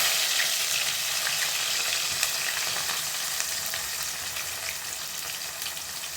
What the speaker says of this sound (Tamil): இப்போ சட்டி எண்ணெய் காஞ்சிருச்சு இப்போ இதில் நம்ம வெங்காயத்தை சேர்த்துக்கலாம்